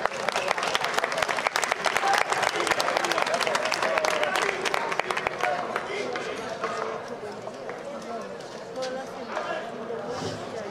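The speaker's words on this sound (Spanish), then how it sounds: "Cuando quieras, un aplauso." Audience applause at a Roman history reenactment of Augustus's army, with dense clapping loud and steady at first, then thinning and softening toward the end while voices murmur through it.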